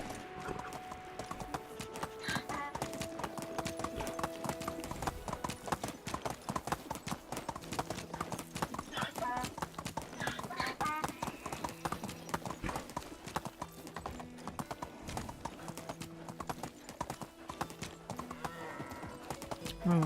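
A donkey clip-clops under its rider in a medieval village-building game, its hooves tapping in a quick, steady rhythm throughout, close and loud, with occasional game sounds in the background.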